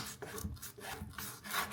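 A sharp kitchen knife presses and saws through raw chicken wings, making soft, close, rhythmic rubbing and crunching strokes at low volume with no talking.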